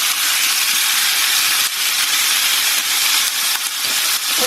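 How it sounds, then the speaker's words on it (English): Pork searing in a hot pan after ginger and garlic, a loud, dense, steady hiss of sizzling fat close up, with a few brief dips, no voices. "My pork goes in next. And we're going to sear this pork."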